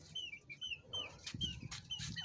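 Chickens released from their coop on a farm cluck in short, repeated bursts, with rustling and a few sharper calls rising over a constant low background.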